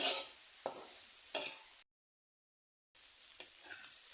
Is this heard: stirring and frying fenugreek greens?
yes